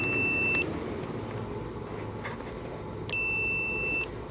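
A multimeter checks continuity across a fuse in a cotton harvester, sounding two steady electronic beeps, the first about half a second and the second about a second long, over low background rumble.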